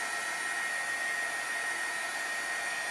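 Steady, close whoosh of a heat tool blowing continuously to dry wet watercolor paint, a constant airy hiss with a faint motor whine and no pauses.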